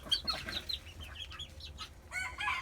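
Small backyard flock of hens, including a white Smooth and a Frizzle, on a Maryland mini farm, clucking in short overlapping bursts close by, with soft scratching and rustling between calls and no talking.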